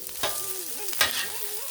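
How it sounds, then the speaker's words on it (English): Vegetables are stirred on a Blackstone griddle, giving two quick, loud metal scrapes over a steady close sizzle, with a faint wavering whine in the background. "And let's give it a quick stir"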